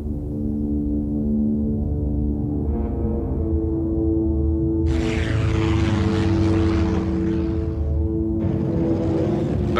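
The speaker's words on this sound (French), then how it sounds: "l'Avenger passait pour le meilleur bombardier lance-torpilles du monde" An Avenger torpedo bomber, a propeller aircraft, flying with a loud, steady droning engine hum, and swelling roars rising twice as the plane passes close.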